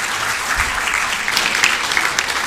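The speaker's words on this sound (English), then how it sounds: "let's clap for that" Audience applause for cellist Catherine Brunhaver's new baby girl, a steady wash of clapping from a gathered crowd that holds even throughout, close and fairly loud, with no talk over it.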